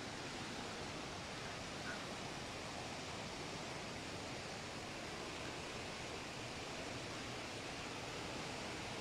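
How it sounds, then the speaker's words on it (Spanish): A swollen Nututún river near Palenque, Chiapas, running high after heavy rain, gives a steady, dense broadband rush of water with no breaks, fairly faint and distant-sounding and with no voices over it. "Ni ahora que estuvo lloviendo tan fuerte, creció tanto el río"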